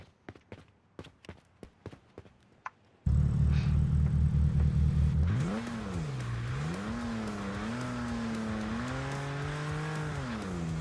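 A BMW engine in the Underground Garage driving game starts with a series of sharp clicks, then settles into a loud, steady drone whose pitch rises and falls as the revs swing up and down.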